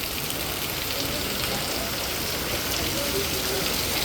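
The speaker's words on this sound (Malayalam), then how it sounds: "വെറുതെ നല്ല മഴ ഇപ്പം" Heavy rain falls steadily at a camp, a dense, unbroken hiss of drops on surfaces that stays even and loud from start to finish.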